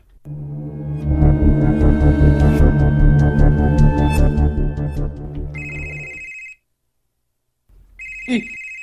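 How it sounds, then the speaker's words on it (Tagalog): A mobile phone rings with a loud tonal ringtone, first under busy music and background sound, then alone after a brief silence, close and clear. "Bagting akong cellphone."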